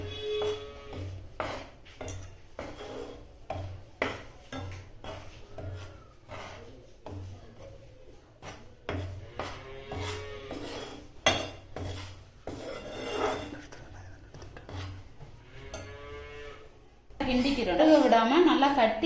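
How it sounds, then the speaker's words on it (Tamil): Maida flour being stirred in a pan for shankar poli: repeated, close scraping and clinking of a utensil against the pan in a steady rhythm under continuous talking, ending in a louder, rougher burst. "கிண்டிக்கிறோம் விடாமல், நல்லா கட்டி இல்லாமல் கொஞ்சம் மாவு லைட்டாக சூடு ஏறினா போதும்."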